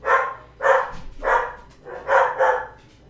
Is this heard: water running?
no